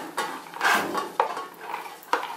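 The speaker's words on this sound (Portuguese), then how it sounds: "E eu vou colocar aqui na mesma panela a cenoura, o broto de feijão," Carrots and bean sprouts go into a cooking pan with chicken and are stirred. Soft scraping comes through with several sharp clinks of a utensil against the pan, irregular and close, with no voices.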